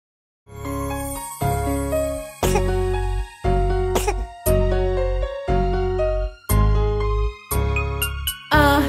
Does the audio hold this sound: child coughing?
yes